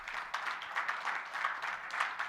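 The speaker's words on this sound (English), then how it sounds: "I think he deserves a big round of applause" An audience at a presentation on the owner's manual and safety applauds steadily, a soft, even wash of clapping heard at some distance.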